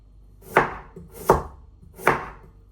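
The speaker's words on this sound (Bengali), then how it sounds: "মূলা ভাজি করুন এই ঘিচি ঘিচি করে চিকুন চিকুন করে কেটে নিয়ে" A knife chops radish into thin strips on a board: three crisp, evenly spaced chops, close and clear with no talking.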